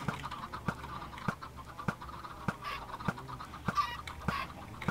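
Chickens in Minecraft cluck in short, evenly spaced clicks, repeating steadily about every half second, fairly quiet and alone, with a few softer chirpy calls mixed in.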